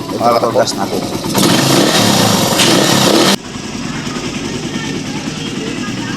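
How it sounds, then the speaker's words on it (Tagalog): A carbureted Suzuki Raider R150 motorcycle engine runs close by, a loud steady rumble that swells between about one and three seconds before dropping to a lower idle-like drone; a voice speaks briefly at the start. "ito yung tunog ng ating Raider 150 sa ganong kahabang tinakbo"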